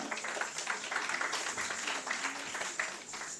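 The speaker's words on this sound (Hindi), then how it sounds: "इन युवा कलाकारों के लिए एक बार पुनः जोरदार तालियां।" Audience applause for young kathak dancers at a cultural program, a steady wash of fairly quiet clapping throughout, heard from a distance.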